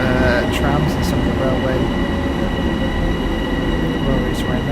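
Sustained rumble and rolling noise of an M7 train pulling in within Train Sim World 4, a steady loud drone with faint high tones throughout, with a voice talking over it.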